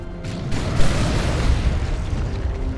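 A D-cannon firing in Dawn of War 2, a heavy boom with a rumbling, sustained blast that fills the whole stretch, loud and close with no talk over it.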